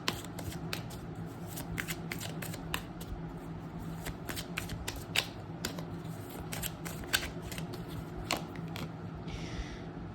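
Tarot cards shuffled and drawn, a steady run of crisp flicks and snaps from the deck over a low room hum, close and continuous with occasional sharper slaps as cards are pulled.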